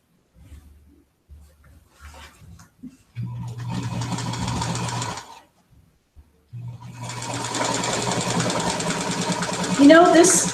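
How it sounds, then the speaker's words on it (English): A sewing machine stitching through quilt fabric runs in two steady bursts, the second longer, with a faint rattle from a worn hook. Brief quiet pauses and small handling knocks fall between the runs. "I love this machine. But it's rattling a little bit, as if maybe the hook is a little worn."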